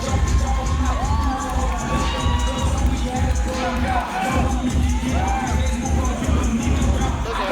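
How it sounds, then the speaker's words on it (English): Wrestling crowd at a Lacey event cheering and shouting loudly and steadily, with scattered whistles and children's shrieks rising above the dense roar. "Zoe collecting some well-deserved love from this Lacey crowd."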